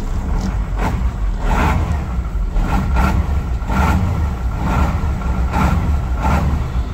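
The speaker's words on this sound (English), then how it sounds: "Give her a little throttle, see what she sounds like." A Ford F8000 truck that sat unused for years, its engine running with a lopey, cam-like idle as the throttle is blipped repeatedly, giving loud, close, rhythmic surges of revving.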